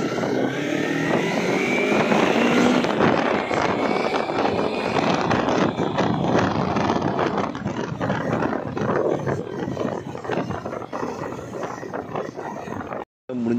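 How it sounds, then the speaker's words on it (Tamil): A motorcycle engine roars steadily while riding along a road, wind buffeting the rider, with someone talking over the noise. "பார்த்தி அண்ணாவோட பைக்கில் தான் போயிட்டுருக்கோம"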